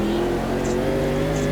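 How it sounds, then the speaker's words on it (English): Chevrolet Camaro GT4 racing car in the Automobilista 2 sim, its engine droning steadily under power, a loud, continuous low hum with no voices. "It's quite a dull sounding engine."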